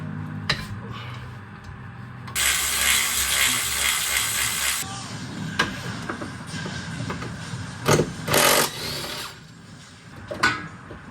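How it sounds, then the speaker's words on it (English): A big breaker bar ratchets and clanks while loosening driveshaft bolts under a car, with bursts of metallic clicking and a long broadband rasp in the middle, close and moderately loud in a garage. "Bust out that big breaker bar."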